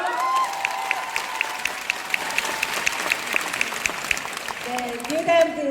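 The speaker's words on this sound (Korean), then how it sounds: "큰 박수로 축하의 박수 부탁드립니다" Audience at a speech event applauds steadily, a dense wash of clapping held at an even level throughout, while a voice speaks over it and brief amplified tones sound near the end.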